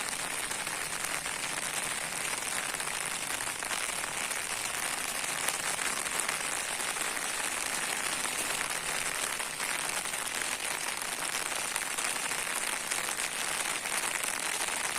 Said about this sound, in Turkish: Yağmur biraz daha şiddetini artırdı. Sesi size de geliyordur muhtemelen.